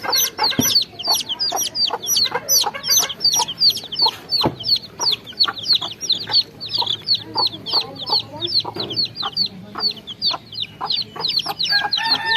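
Desi chicken chicks peep constantly during vaccination, a dense run of sharp, high, repeated cheeps close by, with occasional louder calls and handling bumps throughout.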